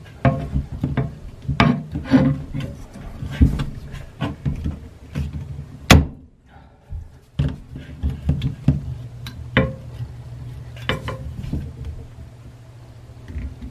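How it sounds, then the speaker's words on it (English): An 18-inch pipe wrench working at a stiff household water shutoff valve: irregular close scraping, creaking and metallic knocks, with slips and bursts of effort separated by short quiet gaps. "This is an 18-inch pipe wrench. Let's see if this works."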